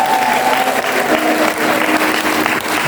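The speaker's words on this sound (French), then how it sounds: "Je vous demande de l'applaudir pour son bon travail." A church congregation applauds a deacon during a pastor's ordination ceremony, with dense, steady clapping from many hands throughout and a few faint voices mixed in.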